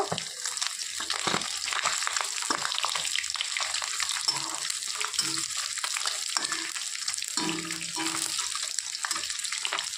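Fish pieces frying in oil, a dense, steady hissing sizzle with bubbling crackle throughout, close and loud without pause.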